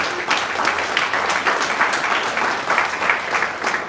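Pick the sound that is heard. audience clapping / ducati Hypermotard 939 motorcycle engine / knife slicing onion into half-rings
audience clapping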